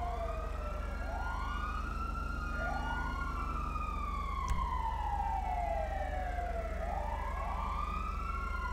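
Wailing ambulance siren in the LSPDFR police mod of a video game, sweeping steadily up and down for the whole stretch, loud and continuous over a low engine hum with no talking.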